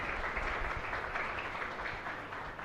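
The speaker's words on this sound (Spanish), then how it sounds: "Un fuerte aplauso para todos ustedes." A congregation applauding inside a chapel after Mass, a steady dense wash of clapping lasting the whole stretch at moderate loudness, with no voices standing out.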